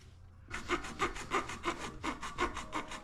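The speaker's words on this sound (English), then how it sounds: "And then we're gonna cut a line through here. I have this little hacksaw here." Small hacksaw cutting through PVC pipe, a rapid rhythmic series of about ten back-and-forth rasping strokes, close and steady with no talk.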